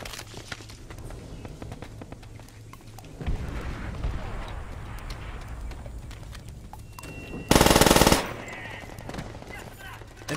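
Rapid automatic gunfire from a G40 rifle in an older Call of Duty video game: bursts of loud, sharp shots over a busy game soundscape, with one especially loud, bright burst near the end.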